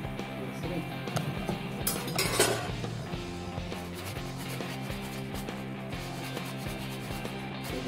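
Crispy fried homemade nachos handled after draining from the oil give off a steady dry rubbing and light clinking crunch, close and continuous with no voices.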